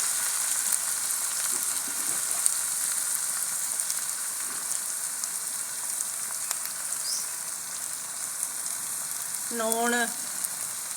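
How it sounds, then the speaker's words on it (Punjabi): Masala for stuffed bitter gourd frying in a pan in a village kitchen: a steady, close hiss and sizzle throughout, with a brief clink of a utensil near the end. "ਅੱਧਾ ਭੁੱਜਿਆ ਮਸਾਲਾ ਹੋ ਗਿਆ ਤੇ ਬਾਕੀ ਆ ਫੇਰ ਭੁੰਨਾਂਗੇ ਲੂਣ ਮਿਰਚ ਪਾ ਕੇ"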